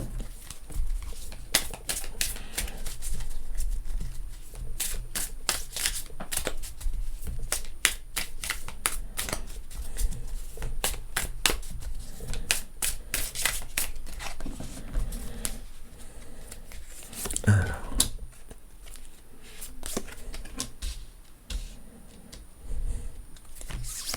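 Tarot-style cards shuffled by hand for a five-card spread, a long run of rapid crisp riffling and flicking that comes in close, dense bursts and then slows to scattered snaps near the end.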